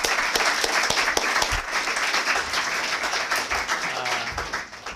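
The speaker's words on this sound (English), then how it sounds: "let's give a round of applause to our panelists." An audience applauds panelists at an election forecasting talk, steady dense clapping throughout at even volume, no voices over it.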